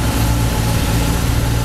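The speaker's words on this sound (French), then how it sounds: "la laisser tourner un petit peu, puis tu mets 2-3 petits coups de gaz pour qu'on écoute le son" A 2024 Kawasaki ZX-10R sport motorcycle with stock exhaust idles steadily nearby, a low, even rumble with no revving, loud and continuous throughout.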